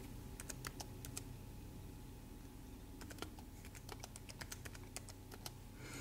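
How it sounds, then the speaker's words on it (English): Quick, faint taps on a wireless keyboard paired with an iPhone or iPad, coming in short irregular bursts of keystrokes separated by pauses over a low background hum, with no talking. "Of course, you can type as well."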